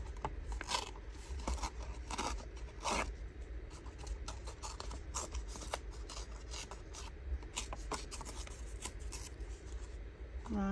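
A journal notebook page tears away in a long, rough rasping rip, close and continuous with scratchy paper friction, no voices over it.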